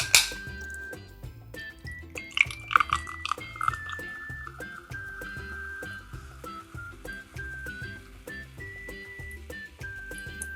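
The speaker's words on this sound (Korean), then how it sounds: "탄산수 가득 부어주시고요." Sparkling water poured to the top of a long drink glass over ice with Aperol and sweet vermouth, a soft fizzing trickle low under louder rhythmic background music.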